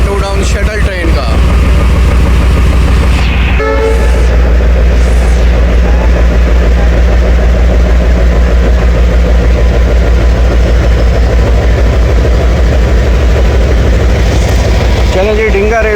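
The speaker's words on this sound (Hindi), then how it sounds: "चलो जी डिंगा रेलवे स्टेशन से डिपार्ट कर रही है 2 डाउन शटल ट्रेन" The 2 Down shuttle train pulls away from Dinga railway station with a loud, steady engine drone and rumble that fills the whole stretch, a few brief higher squeals rising over it early on.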